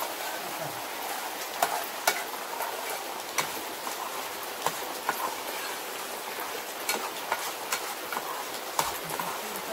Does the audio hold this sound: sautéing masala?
yes